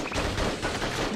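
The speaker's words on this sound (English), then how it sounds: "Rapid fire." Rapid gunfire from a gun in a video game, a dense continuous burst of shots filling the short moment without a break.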